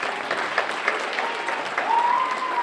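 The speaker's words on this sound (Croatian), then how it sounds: "Molim veliki aplauz za suprugu i sina." A studio audience at a Bosnian Idol talent show claps warmly in dense, sustained applause, loud and continuous from start to finish, with a faint musical tone running beneath it.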